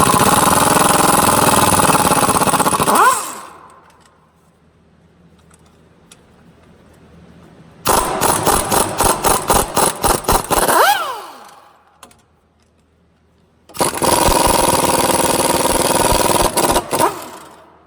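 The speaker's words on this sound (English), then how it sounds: "remove the 3 bolts, securing the motor to the key case" Bolts being removed from the 4x4 transfer case motor on a Chevy GMC truck, three loud bursts of a power tool buzzing with rapid impacts, separated by quiet gaps.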